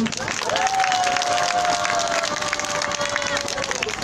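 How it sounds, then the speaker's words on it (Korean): Crowd applause at a Wednesday demonstration as a school group is introduced, a steady wash of clapping with a long tonal whine running through it and voices mixed in. "소개할 때마다 큰 박수 부탁드리겠습니다"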